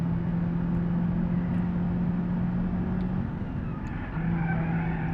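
A car engine in BeamNG.Drive, a base-model Ford Focus or BMW X5 on the Nürburgring, drones steadily at low speed with a continuous hum, dipping briefly before resuming, loud and alone.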